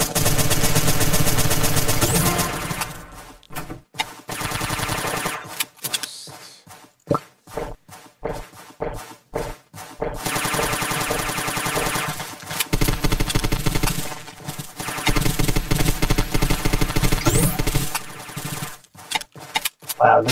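Suppressed SMG fire in the game Zombs, with dense muffled bursts of rapid shots in long stretches separated by short pauses, while people talk.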